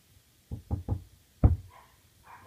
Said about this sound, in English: Wait, guys, something's at my door.